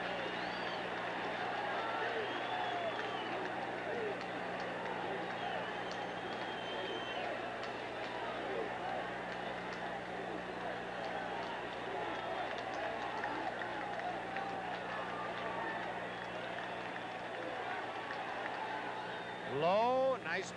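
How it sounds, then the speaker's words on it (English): Crowd at a 1977 Red Sox versus Yankees baseball game at Yankee Stadium, a broad steady roar of fans yelling for defense under a broadcaster's commentary. "the crowd starting to yell,"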